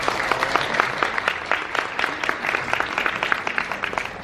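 Wedding guests applaud together indoors, a dense steady burst of clapping from a modest crowd at a ceremony, fairly close and lasting a few seconds without a pause.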